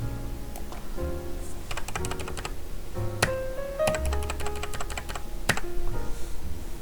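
Computer keyboard keys pressed for shortcuts while working in Illustrator, a quick irregular run of close, crisp clicks and taps with short pauses between clusters.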